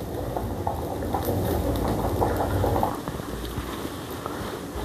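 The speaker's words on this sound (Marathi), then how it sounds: "आता आपलं चिकन हे कसं उकळ्या मारतं आहे" Chicken curry bubbling in a pot over a wood fire, a dense, steady simmer of popping bubbles that runs on without pause and no talk.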